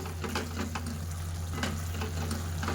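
Crumbled chevda is mixed into tindora (ivy gourd) curry in a pan: a continuous close sizzle with brisk scraping stir strokes repeating every half second or so.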